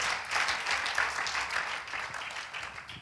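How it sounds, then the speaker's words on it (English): A church congregation clapping their hands to the Lord, a soft, steady patter of many hands at a distance, gently fading toward the end, no speech. "Would you clap your hands to the Lord if you believe that?"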